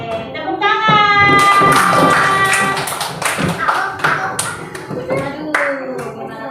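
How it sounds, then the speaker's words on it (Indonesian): A class of third-grade children at an elementary school claps hands together in a lively, rhythmic burst, with a teacher's voice and children's voices sounding over the clapping. "Tepuk tangan."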